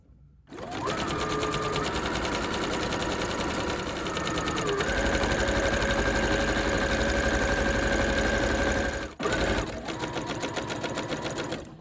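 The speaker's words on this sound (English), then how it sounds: "you're sewing your facing to your lining with the right sides together" A sewing machine stitches a coat facing to its lining, running loud and steady for several seconds, with a rhythmic mechanical whir that shifts pitch partway through and pauses briefly near the end.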